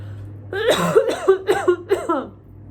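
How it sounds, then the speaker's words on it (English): A run of four or five short, throaty coughs in quick rhythm, close by, each with a voiced edge. "I'm coughing"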